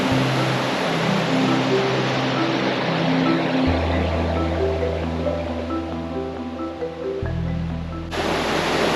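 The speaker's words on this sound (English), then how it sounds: "a magnificent waterfall here, deep in mature woods" A magnificent waterfall deep in mature woods, with rapids below, pours a loud, steady broadband rush of water that stays unbroken throughout, with low tonal hum layered underneath.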